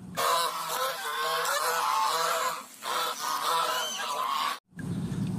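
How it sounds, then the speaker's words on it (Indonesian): A goose honks loudly and close, a run of harsh, nasal calls strung together almost continuously, with a brief gap before a final burst. "Widih, angsa."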